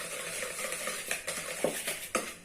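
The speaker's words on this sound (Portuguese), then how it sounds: "eu vou já dar uma misturada aqui antes, né? Com a própria mão, com o batedor." A hand whisk stirs a whipped cream mixture in a bowl, soft swishing with a few rhythmic clinks of wire against the bowl, close and fairly quiet.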